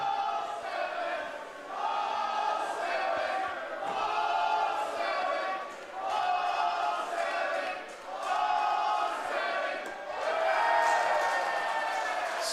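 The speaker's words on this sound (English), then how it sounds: "The crowd is loving that" A baseball crowd at an Intercounty Baseball League game, the London Majors hosting the Brantford Red Sox, cheering and chanting in rising and falling swells that carry across the stands.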